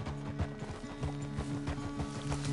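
Horse hooves clip-clopping in a steady rhythm during riding in the video game Red Dead Redemption 2, with a continuous tonal hum running beneath the hoofbeats and no talk.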